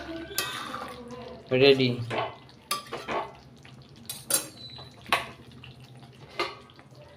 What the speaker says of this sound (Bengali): গরম মশলা দিয়ে নিলাম, একটু নাড়িয়ে দেবো।